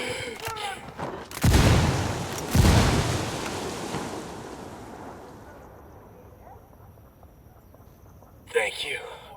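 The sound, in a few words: frag grenade explosion in the video game Ghost Recon Wildlands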